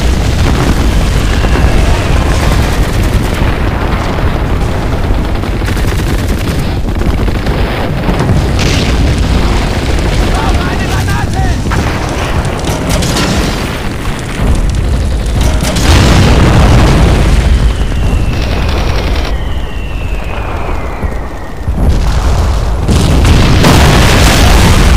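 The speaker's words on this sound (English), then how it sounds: "Katusha opened up barrage and I lost 3 Tigers" Katyusha rocket barrage in the Men of War: Barbarossa game: heavy booming explosions land one after another, loud and rumbling, with a few whistling rounds and a near-constant roar that lasts more than twenty seconds.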